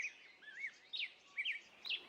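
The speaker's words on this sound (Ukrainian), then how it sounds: "Правильно, це соловей." A nightingale sings, with faint, high, warbling chirps and whistled phrases repeating every half second or so, distant and thin, with no talk.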